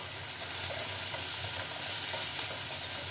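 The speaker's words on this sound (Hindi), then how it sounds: "हम पक रही है मिर्च की सब्जी बना रहे दही बेसन वाली" Chillies fry in a pan with oil, salt, turmeric and cumin, the base for a yogurt and besan curry, giving a steady, close, hissing sizzle that continues evenly throughout, with no voices.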